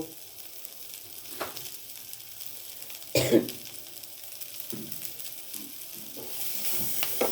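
Chopped garlic and ginger sizzle softly in a pan of hot oil for chilli chicken sausage, a steady faint crackle broken by a few stirring clatters and a brief cough.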